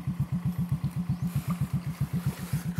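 A motorcycle engine close by throbs with a fast, even, low chugging rhythm, like a steady idle or slow roll, with no talking over it.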